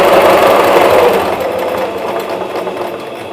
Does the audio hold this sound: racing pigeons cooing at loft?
no